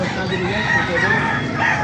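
A rooster crows among clucking chickens at a chicken market in Baliuag, Bulacan, with a steady, dense barnyard din throughout and some faint voices in the mix.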